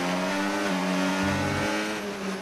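Race car engine held at full throttle in a racing video game during a Spanish Grand Prix, a steady, loud, high-pitched drone with no letup and no voices.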